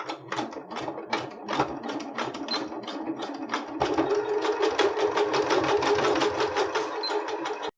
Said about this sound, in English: Now we're going to be sewing a zigzag stitch along the overlap to connect the pieces of elastic together.